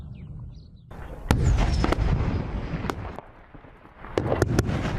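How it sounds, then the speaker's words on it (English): Intermittent gunfire and heavy bombardment during the battle for Baghouz in Syria, with loud bursts and crackling blasts over a rumbling, roaring background, the reports clustering more densely toward the end. "We can still hear intermittent gunfire."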